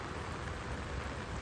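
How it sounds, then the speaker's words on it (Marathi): Heavy monsoon rain falls steadily during a flood, a dense, continuous hiss and patter with no break, loud and close throughout. "वरचा पाऊस पण सुद्धा थांबायचा नाव नाही घेत. पाऊस पण सतत चालू आहे"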